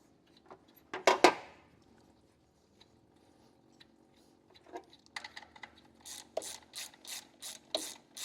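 Ratchet clicking while bolts come off the alternator of a 2001 Ford Ranger 4.0L engine, first a short sharp burst, then a quiet pause, then several quick, evenly spaced runs of close, crisp clicks.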